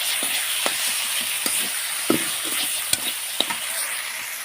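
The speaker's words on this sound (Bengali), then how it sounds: "স্বাদ মতন লবণ দিয়ে ভালো করে আবার মশলাকে নেড়ে চেড়ে নেব।" A spice paste of chilli powder and salt frying for a potato and fish curry, with steady sizzling close up and the intermittent scrape and tap of a spoon stirring in the pan. No talking.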